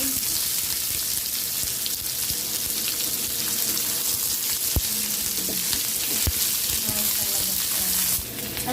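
Fried tofu frying in a pan while being stirred, a continuous sizzle with occasional sharp spatula clicks and scrapes, a faint voice murmuring in the background.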